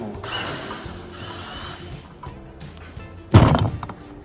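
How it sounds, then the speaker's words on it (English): Screws are being backed out of the windscreen on a Yamaha Tenere XT660Z motorcycle, giving soft close-up ratcheting and mechanical turning, then a sharper clunk near the end. "I take all the screws out"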